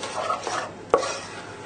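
A spoon stirs a thick paste in a pan lifted off the hob, soft scraping strokes with a sharp metallic clink of utensil against pan midway through, close and without talk.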